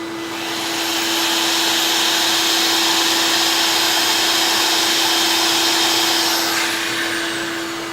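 A spinning piece has its edge softened with sandpaper on a lathe. The steady, loud abrasive whir of the spinning piece and paper runs unbroken for the whole stretch.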